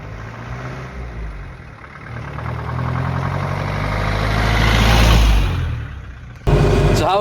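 A vintage Ford Thames forward-control van's engine idles and then revs up with a steady low rumble and vibration heard from inside the cab, followed by a sudden louder shift near the end.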